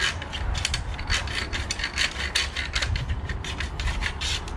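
A sharp pointed tool scrapes and picks at packed debris inside a central vacuum power head, giving close, steady rasping and clicking strokes in a continuous run with no talking.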